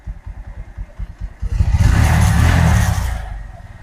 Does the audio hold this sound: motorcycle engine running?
yes